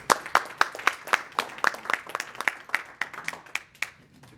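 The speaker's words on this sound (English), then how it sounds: "Please join me in a round of applause to welcome." A lecture audience applauds to welcome speakers on Israeli politics, a modest group of hands clapping in quick, fairly close bursts that gradually soften toward the end.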